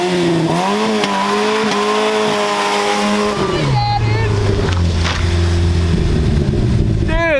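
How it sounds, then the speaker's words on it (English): An old car nicknamed SlowBalt is held in a tire burnout. The engine revs loudly, its pitch climbing and then dropping, with a harsh squealing rasp of spinning rubber, close and continuous throughout. "See if it'll do a burnout."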